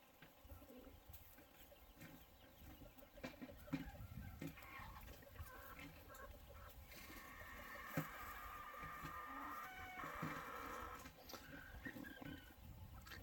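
An old rooster on a windy farm gives a warning call, a sustained tonal cry rising partway through amid steady wind noise and scattered background clucks and rustling.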